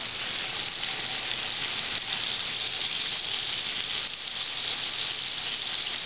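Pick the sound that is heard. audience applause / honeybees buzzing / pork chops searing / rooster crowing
pork chops searing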